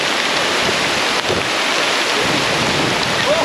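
Heavy rain pours down steadily at a waterfall campsite, a dense, loud wash of drops drumming on nearby surfaces without a break.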